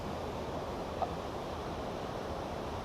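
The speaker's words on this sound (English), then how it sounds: "there's a hell of a lot of water going over those plug holes" Water rushes over the Ladybower reservoir overflow plug holes in a steady, loud, unbroken roar that fills the whole stretch, heard outdoors with no voices.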